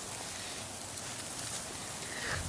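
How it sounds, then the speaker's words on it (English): Rain falls steadily during an ice storm in Pensacola, Florida, a soft, even hiss of drops on surfaces with no other sound standing out. "Right now it's still raining."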